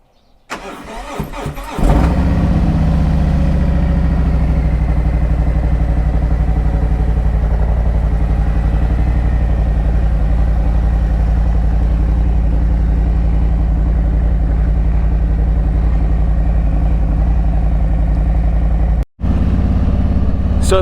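A motorcycle engine starts up and runs loud and close for the rest of the stretch, a steady mid-pitched rumble with one brief dropout near the end before it carries on.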